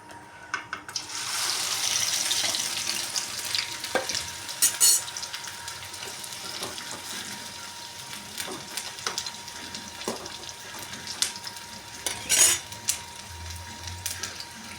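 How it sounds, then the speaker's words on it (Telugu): Long sliced onions for meal maker biryani fry in hot oil, a steady hissing sizzle broken by occasional sharp clicks and scrapes of stirring, close and continuous without speech. "ఇప్పుడు మనము దీన్ని నూనెలో వేయించుకుందాం."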